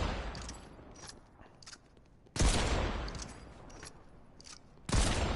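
Mammoth pistol shots in a video game: two loud, heavy blasts about two and a half seconds apart, each ringing out and decaying, with softer distant gunfire and faint game ambience between them.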